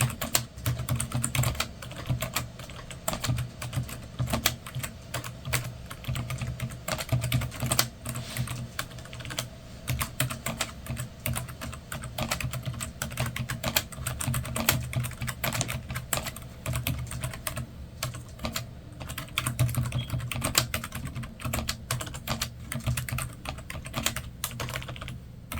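Steady typing on a cheap $20 Logitech full-size keyboard, a continuous run of close, moderately loud key clicks and clacks with no talking.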